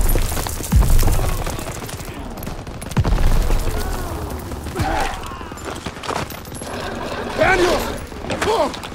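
Sustained gunfire and explosions in a Call of Duty: WWII battle, with heavy bursts near the start and around three seconds, then scattered shots and clatter as a voice talks in the background.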